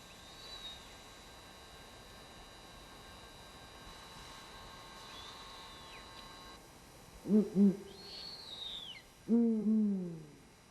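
A fish owl gives two deep, resonant hooting phrases late on, each a couple of low rolling notes, heard fairly clearly over a quiet background of steady hiss and faint hum.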